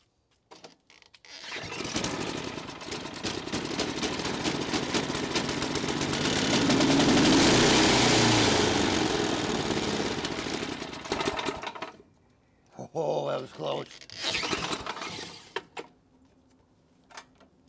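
Snow blower engine, its carburetor just refilled with fuel, cranks and catches at about 2 s, then runs loudly and steadily, revving higher around 7–9 s before cutting off near 12 s, followed by a few brief rattles and clatters.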